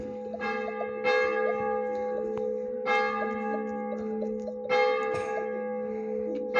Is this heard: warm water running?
no